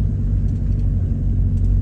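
Engine of a classic Škoda 110 R driving slowly in low gear during a vintage car rally, a steady low rumble holding close and even throughout with no voices.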